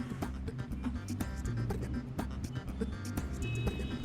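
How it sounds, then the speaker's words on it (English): Traffic report theme jingle on a Cayman Islands radio show, a steady run of bouncy musical notes over a thumping beat, loud and continuous for its whole length with no talk over it. "that familiar theme tells us once again it's time to take a look what's happening on our roads"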